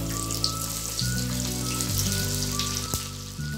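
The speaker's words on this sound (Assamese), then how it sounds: "তেলখিনি বেছিকৈ গৰম হ'বলৈ দি চিকেনখিনি আকৌ এবাৰ ভাজি লম।" Chicken 65 pieces fry a second time in very hot oil, giving a steady, close crackling sizzle like light rain that runs unbroken with no talking.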